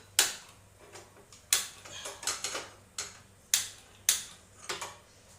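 A gas stove is lit under a pressure cooker in a home kitchen: a series of sharp, clicking igniter snaps, irregularly spaced and fairly close, with quiet pauses between them.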